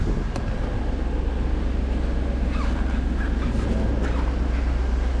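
A 1991 Mercedes-Benz 500SL R129 idles steadily with a low, even engine rumble heard close, a soft and subdued exhaust note with no voices.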